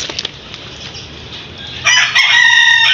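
A native chicken squawks and clucks, loud and close, breaking out after a quieter stretch with faint scuffling sounds.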